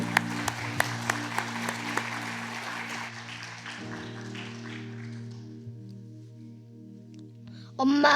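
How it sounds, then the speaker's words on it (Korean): Church congregation clapping during a Sunday service, a few seconds of scattered claps over a sustained low hum, then the applause dies away before a short rustling sound at the end. "나올 때, 들어갈 때 큰 박수 부탁합니다"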